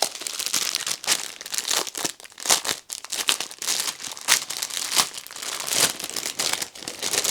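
A crinkly plastic pack of diamond art supplies being pried open by hand, with loud, close crackling and rustling in uneven bursts that continue steadily throughout.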